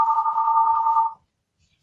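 A telephone rings once with a steady electronic tone lasting about a second, loud and close, then stops into silence.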